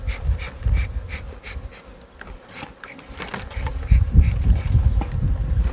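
Honeybees from organic black hives at a cool apiary 2500 metres up drone steadily and loudly, swelling and easing, close by with no talking.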